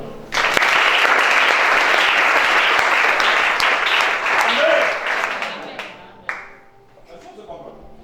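Church congregation applauding during a deliverance worship service in Gabon, a dense, loud wash of clapping that holds steady for several seconds, then thins out and fades toward the end.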